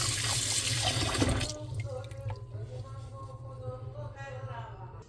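Lukewarm tap water pours loudly into rice at the start, then stops and gives way to softer trickles, drips and swishes nearby.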